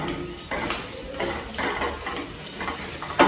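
Onions sauté in a pan for lemon rice, making a continuous near sizzle broken by repeated spoon scrapes and clinks against the pan, with no talk.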